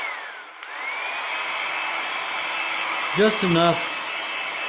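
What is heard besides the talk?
hair dryer blow drying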